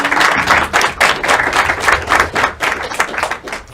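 A crowd at a student event applauds a student from Iceland, loud close clapping from many hands in a rhythmic, slightly pulsing wave that continues steadily throughout.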